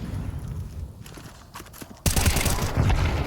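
Rapid gunfire from the video game Counter-Strike 2 crackles in a dense burst after a quieter stretch of footsteps and mechanical clicks, loud and close.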